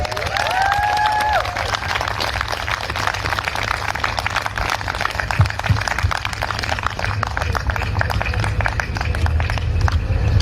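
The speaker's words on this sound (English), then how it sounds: "Can we please give her another round of applause, friends?" Sustained audience applause at a talk given by an abuse survivor, with dense steady clapping through the whole stretch and a brief tonal sound near the start.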